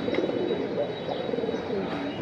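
Pigeons at a bird sale give soft, low coos in short murmuring bursts, close and fairly steady, with faint background bustle.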